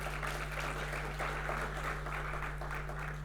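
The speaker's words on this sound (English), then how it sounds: "Please, a round of applause for her." Audience applause at the opening of a national business forum, steady dense clapping from a crowd filling the whole short stretch, with a low hum beneath.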